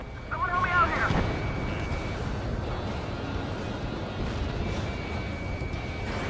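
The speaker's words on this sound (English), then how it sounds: "The explosions are awesome." Explosions in the Ace Combat 7 combat flight game: one deep boom bursts early, then trails off into a long, rumbling roar that fades slowly.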